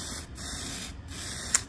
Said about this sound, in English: then I spray painted it.